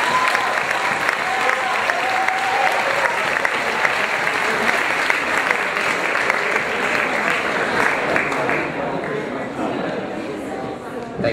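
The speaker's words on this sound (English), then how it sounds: "Please, ladies and gentlemen, applaud for Maarten van Rossem" A large audience applauds loudly and continuously for a lecture by historian Maarten van Rossem on the US elections, a dense, sustained wash of clapping from many hands that barely fades over eleven seconds.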